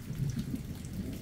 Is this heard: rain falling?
yes